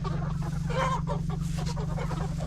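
Pastured chickens cluck in a steady stream over a constant low hum, several birds calling close by without pause.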